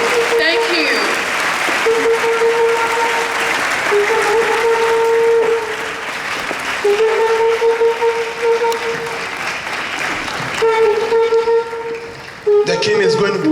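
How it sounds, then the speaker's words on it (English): A crowd applauding to welcome the chairman, a king, at a formal ceremony; sustained clapping fills the space, with steady tonal sounds and voices running through it. "with a resounding round of applause, let us welcome our chairman"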